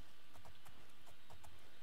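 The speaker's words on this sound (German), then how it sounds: "Los, Pferdchen!" Horse hooves clip-clopping in the video game Oblivion, a brisk, uneven run of light hoofbeats under a constant layer of game ambience, with no speech.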